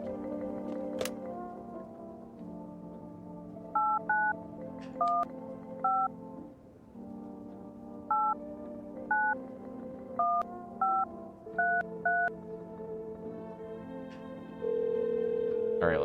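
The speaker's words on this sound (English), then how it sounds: "Alright, let's call phone roulette." Touch-tone keypad beeps from a phone being dialed inside the horror game No I'm Not a Human: a dozen or so short dual-tone presses in irregular bursts over a droning ambient music bed, ending on a steady held tone.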